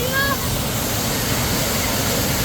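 At Meenmutty waterfall in Kerala, falling water keeps up a constant broadband rush, loud and near, with a faint brief voice at the very start.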